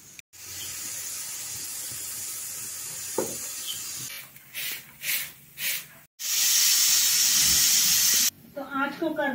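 A pressure cooker whistles on a wood-fired clay stove (chulha) while a Chinese-cabbage saag cooks. Loud, steady steam hissing comes in two long bursts, with a few shorter puffs between them and some faint talk at the end.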